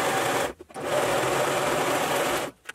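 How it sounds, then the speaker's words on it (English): A cover stitch sewing machine runs in a steady, loud, continuous whir, stitching in two bursts separated by a brief pause, with no talking. "I'm gonna be using my cover stitch machine"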